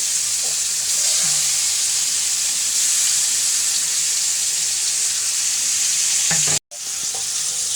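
Prawns fry in a pan with a loud, dense, constant sizzle and some faint clatter, broken by a brief drop to near silence just before the end.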